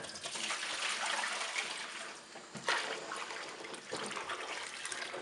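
Bleach water is poured out of a humidifier tank, a close, steady gushing and splashing that briefly surges and dips as the flow shifts, with no talking.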